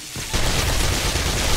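Shotgun turrets in the video game 7 Days To Die fire in a dense, continuous barrage of overlapping blasts, loud and close.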